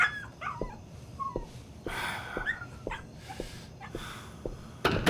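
A farm dog yips, whimpers and barks in short, rapid bursts, close and fairly loud, with thumping movement under the calls and no speech.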